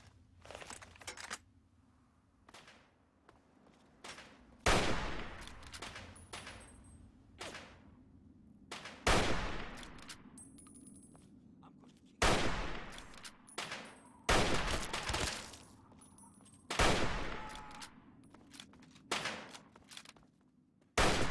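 Several loud, sharp hunting rifle shots from Fallout 3, fired singly at irregular intervals of a few seconds, each with a short ringing tail over a low ambient game background.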